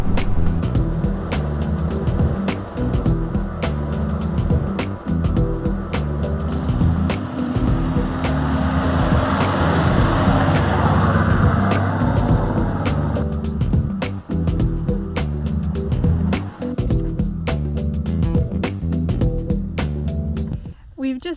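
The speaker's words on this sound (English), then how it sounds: "We've now got dirt under the tyres." A 4x4 driving a dirt track on the way north to Kenilworth, its engine a steady loud rumble with rattles and bumps from the rough surface throughout, while people talk over it.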